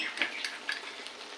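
Ginger garlic paste frying in a pan with cooked brinjal and green peas, a steady close sizzle with brief stirring scrapes, no voices.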